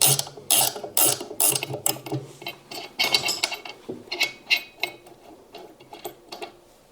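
A ratchet clicks rapidly and close up while a bolt is undone on an LG ThinQ washing machine, its sharp ticking bursts mixed with metallic clatter.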